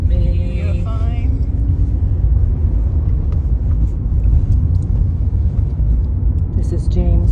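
A car with a manual stick shift driving in England, a low steady engine and road rumble filling the cabin throughout, with people talking over it.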